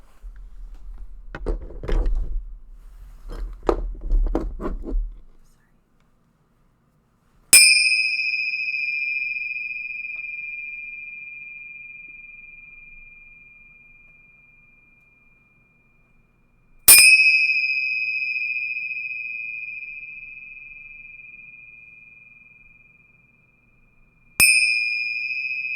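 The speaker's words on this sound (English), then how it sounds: "we're going to do the 3 chimes" A meditation chime rings three times at spaced intervals, each strike bright and clear and left to decay slowly into silence; soft spoken voices precede the first strike.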